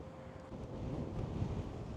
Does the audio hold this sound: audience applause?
no